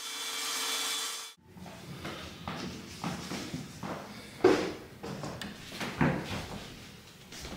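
Shiplap wall paneling is cut down to four-foot lengths with a hand saw, giving quiet, irregular rasping strokes and wooden knocks after a brief initial hiss.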